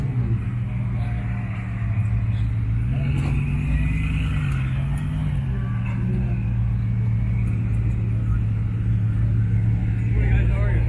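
Bugatti Veyron supercar engine rumbling low and steady at a Lamborghini dealership car show, swelling briefly as it revs, with crowd chatter around it.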